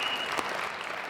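Brief burst of audience clapping, dense and even throughout, at moderate volume.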